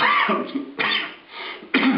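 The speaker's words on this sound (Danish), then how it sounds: "jeg skulle lige hoste" Close, dry coughs in three quick bursts, each a short harsh hack with a throaty edge, separated by brief pauses, with no speech over them.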